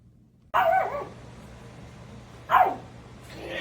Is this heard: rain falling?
no